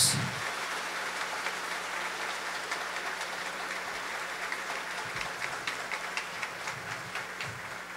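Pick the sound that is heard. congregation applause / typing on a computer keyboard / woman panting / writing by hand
congregation applause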